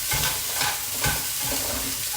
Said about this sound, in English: So stir it up for around like maybe a minute or two